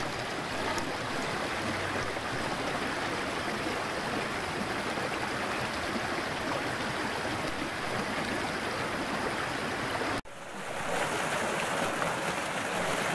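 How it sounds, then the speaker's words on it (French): Two small forest streams meet in foggy woods, a loud, steady broadband rush of flowing water close by, continuous apart from a brief dropout near the end before resuming. "Deux ruisseaux qui se croisent."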